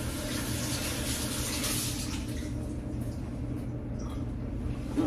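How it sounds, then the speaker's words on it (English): Water runs from a kitchen tap as thyme is rinsed beneath it, a steady soft hiss and splash that thins out toward the end, with no talking. "I'm going to rinse it just a little bit here."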